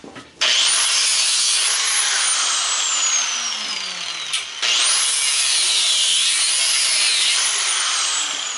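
Angle grinder powered from a solar inverter, cutting into small fridge fan motors for copper scrap: two long bursts of loud, high whining abrasive grind, with the tone sliding in pitch as the disc loads and frees, and a brief pause between cuts.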